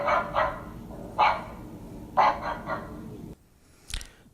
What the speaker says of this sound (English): Alexa, ask Jurassic Bark to bark like a puppy.